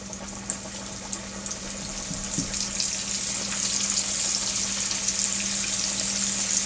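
A piece of chicken lowered into hot frying oil, the sizzle jumping up after a couple of seconds and then holding as a steady, close, crackling hiss with no talking.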